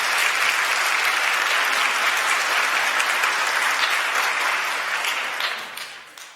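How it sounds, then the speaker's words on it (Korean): A church congregation at a Sunday service at Kyungdong Church gives a loud, dense round of welcoming applause for a visiting pastor. It holds steady for several seconds, then tapers off at the end. "환영의 박수 부탁드리겠습니다"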